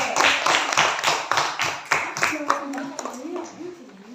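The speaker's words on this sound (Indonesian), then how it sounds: "tepuk tangan untuk kelas." A school class claps for a group of students, a loud burst of rhythmic clapping in the classroom, with a voice briefly heard over it as it tapers off.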